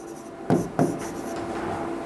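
Chalk or marker scratches across a classroom board in two sharp strokes followed by a steadier rubbing stroke, close and clear with no talking.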